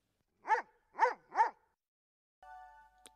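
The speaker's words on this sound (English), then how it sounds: "Dorothy said, and Toto barked loudly." A dog barks three times, sharp and close, as a sound effect in a Wizard of Oz audiobook, followed by a faint tonal hum and a brief click.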